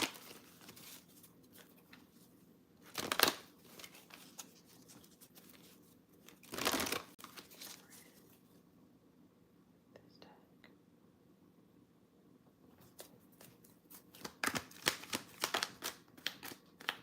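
Tarot cards being shuffled for a reading, a few short riffles and slaps spread apart by quiet gaps, then a denser cluster near the end, close and soft over faint background hush.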